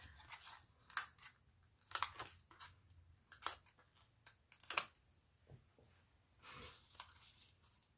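Scissors snipping paper for a Christmas card, a handful of quiet, sharp crisp cuts spaced irregularly in a still room.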